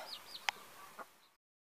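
A few soft clucks and chirps from young chickens sound in a quiet village yard, one sharper cluck standing out, before the sound cuts off.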